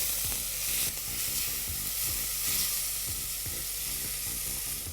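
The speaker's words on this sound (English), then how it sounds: "red onions, finely chopped. Let's stir this and cook this till the onions turn golden brown in color" Finely chopped red onions sizzling in a hot pan, a steady close frying hiss broken by regular scraping strokes of a spoon stirring them.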